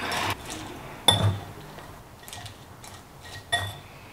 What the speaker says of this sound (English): this takes forever to stir